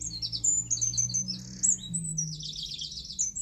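Wild birds in British woods chirp and twitter continuously in the background, with fairly loud, quick, high trills and tweets layered over a low indoor hum.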